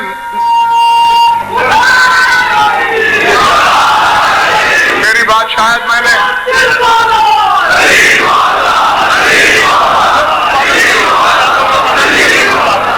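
A large crowd at a Shia religious majlis chants slogans loudly and continuously, a dense roaring mass of voices that swells and surges with rhythmic shouts, while a speaker's voice is heard briefly at the start.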